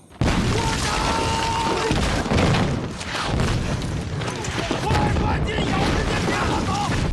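Long-range bomb explosions strike an unprepared group in a war film, a dense roar of booms and blasts filling the whole stretch, with voices audible beneath the chaos.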